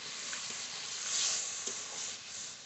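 A little water poured into frying masala for doi katla fish curry sets off a loud, steady sizzling hiss, with a few soft stirring scrapes close by.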